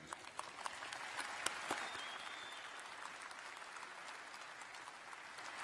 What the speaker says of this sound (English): So I think this deserves another applause of gratitude.